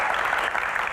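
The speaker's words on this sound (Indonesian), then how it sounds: "tepuk tangan dong buat panelis kita yang luar biasa, Mbak Tejo." An audience applauds the panelists at a talk show event, a dense, steady clapping that fills the whole short moment.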